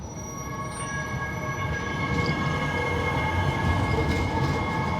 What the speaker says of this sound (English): So here's a city shot with the on-camera audio.